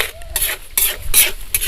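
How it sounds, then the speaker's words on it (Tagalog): Steady stirring and scraping of sugar-coated peanuts in a hot pan, cooked until the water dries out, with a gritty, rhythmic rasp and a faint sizzle underneath. "Para haluin natin ng haluin hanggang sa matuyuan siya ng tubig"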